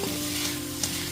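Kachki fish chorchori sizzling steadily in hot oil in a pan as it is stirred, a continuous close frying hiss with a faint utensil scrape, no voices.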